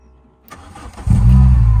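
A Porsche 944 engine starts after long storage: a short cranking whir, then the engine catches within a second and settles into a loud, steady, close rumbling idle.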